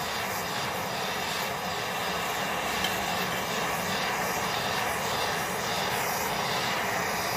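A torch roars steadily as it heats a melt dish outdoors, a constant, loud broadband rushing hiss with no breaks, heard alone without talk.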